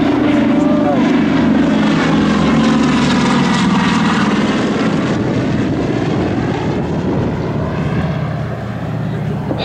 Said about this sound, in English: Here he comes from the right, the C-47 of the Yankee Air Museum in Belleville, Michigan.